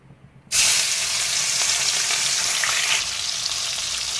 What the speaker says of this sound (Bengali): এবার আমি বাটা মাছগুলো তেলেতে দিয়ে ভেজে নেব